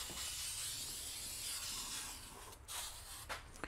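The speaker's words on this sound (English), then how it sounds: "now we can spray our protectant" Aerosol protectant sprayed onto the battery terminals of a 2006 EZGO TXT gas golf cart during routine service, a steady close hiss lasting several seconds with a couple of short pauses and spurts near the end.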